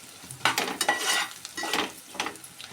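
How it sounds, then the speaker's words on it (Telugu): Pieces of boiled egg fry lightly in oil in a pan for a Telugu egg tomato curry, with soft bursts of sizzle and occasional stirring scrapes coming in short irregular waves. "ఆయిల్లో లైట్గా ఫ్రై అవ్వాలి"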